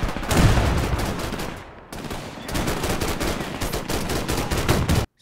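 Dense gunfire in the WWII strategy game Men of War II, rapid machine-gun bursts and rifle shots crackling almost continuously, with a brief lull midway before the loud volley resumes.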